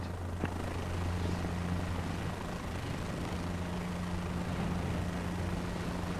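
Helicopter in Microsoft Flight Simulator 2024 moving forward for takeoff, a steady droning rotor and engine hum with a low tonal whine, constant and fairly loud throughout with no speech.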